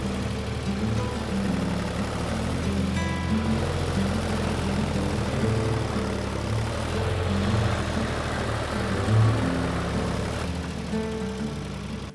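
A tractor engine runs steadily at a mid-pitched drone while straining to drag a felled tree by a chain, the sound continuous and fairly close throughout with no voices.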